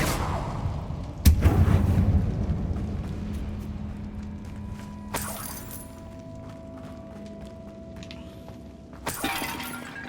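The Incendio fire spell cast in Hogwarts Legacy, a sharp shattering burst followed by a roaring, crackling whoosh that fades, then further sharp magical impacts a few seconds apart.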